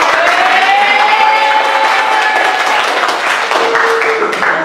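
Classroom of students clapping and cheering for a classmate during a school lesson, a loud, close burst of mixed clapping with excited voices and shouts throughout.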